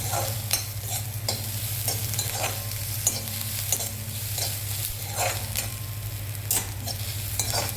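Onion roasts in a pan over the flame for mutton curry. A loud continuous sizzle runs under repeated scraping strokes as a utensil stirs against the pan, with no talking.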